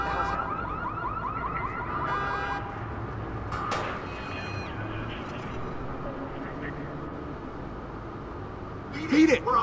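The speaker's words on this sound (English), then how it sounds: "Trip the alarm." A car alarm blares in Watch Dogs, its repeating electronic siren wailing loud and continuous over street ambience, with a brief sharp clatter midway and a short burst of sound at the end.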